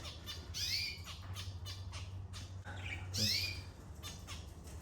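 Budgerigars squawk shortly after being released, sharp harsh calls in short overlapping bursts with a louder squawk near the end, fairly close over a low steady hum.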